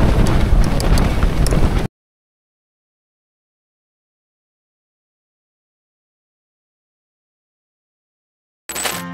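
Heavy, roaring wind from a storm buffets the microphone for about two seconds, then cuts to silence before a short burst of gusting returns at the end.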